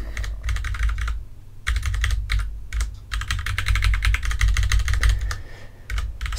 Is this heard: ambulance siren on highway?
no